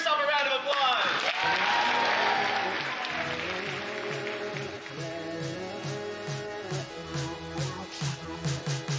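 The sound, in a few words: audience applause at datathon opening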